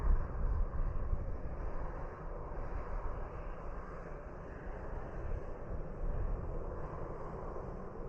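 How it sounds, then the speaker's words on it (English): Airplane passing by at Dublin Airport in gusty southwest winds, a steady low jet-engine rumble that swells and eases over about eight seconds, heard from a distance with wind buffeting the microphone. "I'll tell you actually when this plane goes by."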